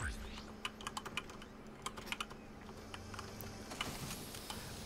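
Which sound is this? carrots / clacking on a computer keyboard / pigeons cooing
clacking on a computer keyboard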